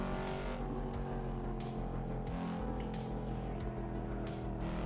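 A car drives in the Assetto Corsa racing simulator game, a steady, loud engine roar with shifting revs and bursts of tire or road noise, running continuously without talk.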